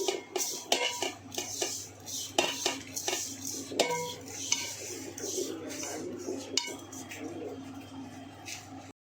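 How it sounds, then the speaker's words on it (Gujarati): Spice masala stuffing for Gujarati stuffed chillies is mixed in a metal bowl, with irregular clinks and scrapes of a spoon against the vessel, close and fairly loud, with brief quiet speech between. "આ બધા તે અંદર નાખી દઈશું આ રીતે તેને આપણે મિક્સ કરી લેવાનું છે"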